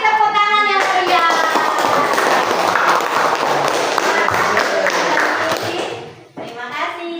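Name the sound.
applause in a classroom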